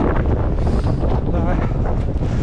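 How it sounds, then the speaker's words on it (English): Strong wind on the fells around Coniston Old Man in the Lake District buffets the microphone in a loud, continuous roar with uneven gusting throughout. "really windy today"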